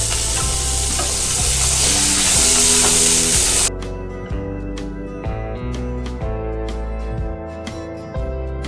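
Chopped onion fries in oil with a loud, dense sizzle and stirring for the first few seconds over background music, then the music carries on alone with only faint cooking sounds.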